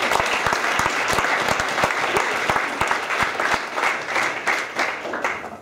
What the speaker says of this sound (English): Well done, and ultra applause for Jamie Sinclair.